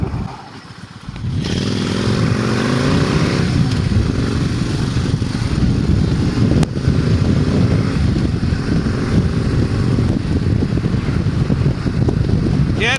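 A Kawasaki VN1600 motorcycle engine on a commute ride, a loud steady rumble mixed with heavy wind buffeting from a helmet microphone, continuous throughout after a quieter first second.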